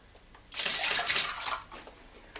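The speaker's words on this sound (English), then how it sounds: "when we pour our water we should get a nice flow as the water swirls in the glass" Water poured into a glass, a steady splashing flow lasting about two seconds that tapers off in short trickles, close and fairly quiet with no voices.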